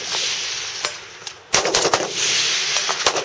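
Rifle shots fired at a steel plate 300 yards downrange, two sharp loud cracks with a short echoing tail, set against steady outdoor wind noise.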